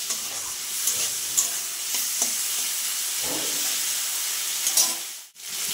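Prawns sizzle steadily in hot oil, with intermittent scrapes and taps of a spatula stirring the pan.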